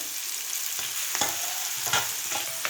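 Tomato pieces tipped onto green peas frying in a pan; continuous hiss of sizzling oil with several close scraping and tapping strokes of a spoon.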